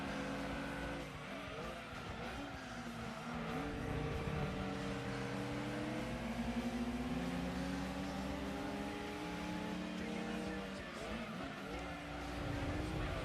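Race cars in Gran Turismo 2 drone past with whining engine tones that rise and fall in pitch, layered over a steady background of game sound at moderate, even loudness.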